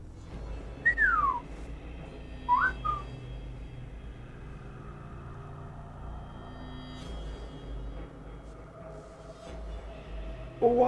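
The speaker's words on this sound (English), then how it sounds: "Lure enemies into your direction by whistling." A character in the Velvet Assassin video game whistles a few short, sliding notes to lure enemies, set against a low rumbling game ambience.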